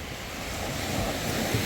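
Waves break on a beach in El Nido, Philippines, a steady, loud wash of surf with a rising swell toward the end and no voices.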